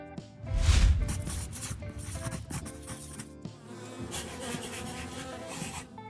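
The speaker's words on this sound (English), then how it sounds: "Bee." A bee buzzes in a steady, close drone with a low thump at the start and a continuous hum throughout, no voices.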